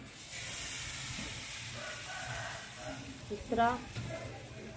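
Wheat flour batter for pude hisses and sizzles on a hot tawa set over a wood-fired chulha, a steady low steam under close conversational voices, swelling briefly near the end.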